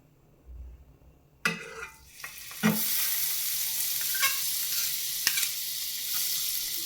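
Butter hitting a hot grill pan for an avocado butter sandwich, a sudden hiss that swells into steady close sizzling with a couple of light clinks of utensils.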